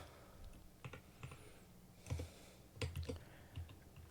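Irregular bursts of keyboard typing, quick clusters of clicks with short pauses between, fairly quiet and close.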